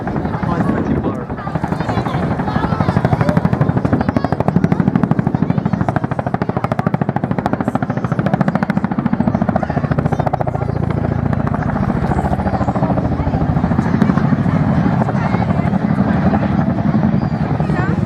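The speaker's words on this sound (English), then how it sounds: "show just how quickly that aircraft can be stopped using the nose down quick stop" Chinook helicopter at the Wales National Airshow performing a nose-down quick stop, its heavy rotor thrum steady and loud throughout, with a commentator talking over it.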